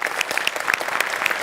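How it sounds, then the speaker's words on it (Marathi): A live audience at a Marathi comedy show claps in a brief, dense burst of applause. "जोरदार टाळ्या तिच्यासाठी."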